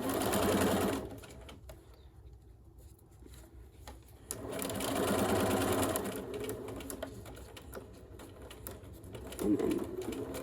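A sewing machine stitches fabric in short bursts with pauses between, a quiet mechanical whirr and clatter with faint background noises.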